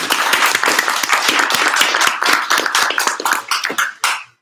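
A small audience at a developer meetup claps after a talk on test-driven development, with close, crisp individual claps forming a lively burst that thins out and stops near the end.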